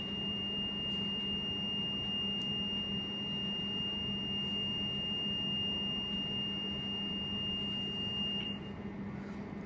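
A steady high electronic beep from an MWE gapping setup sounds continuously and unbroken over a constant low mechanical rumble, with no talking.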